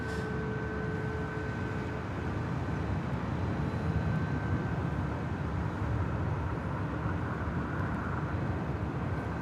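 China Airlines cargo Boeing 777 landing at LAX, a steady distant jet rumble with a faint whining tone over it, continuous and moderate in level, with no talking.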